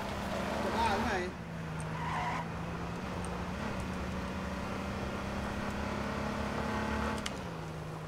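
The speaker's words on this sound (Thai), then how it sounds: "แม่งขับรถไล่กันอยู่เลย" Video game car chase with tires skidding and squealing over a steady, droning engine hum, one sharp skid early and another near the end, with players talking over it.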